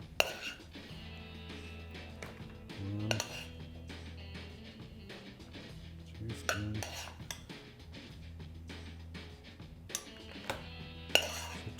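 Cooked brown rice being spooned into meal prep containers, with soft clinks and taps of a spoon against plastic over a low kitchen hum, several small knocks spread through the stretch, quiet and close.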